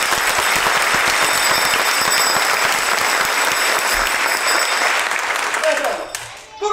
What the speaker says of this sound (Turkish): Beğenirseniz alkışlarsınız